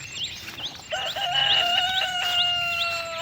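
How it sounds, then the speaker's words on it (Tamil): Chickens call nearby, a rooster crowing with drawn-out tones among several shorter squawks and clucks, loud and close. "கோழிலாம் கத்திட்டு இருக்குது."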